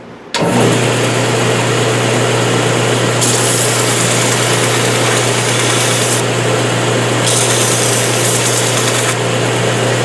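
A worn 220-grit belt sander, normally used for metalwork, runs loud and steady as the edge of a swan's neck cabinet scraper is held square against the belt, with a constant motor hum and grinding hiss.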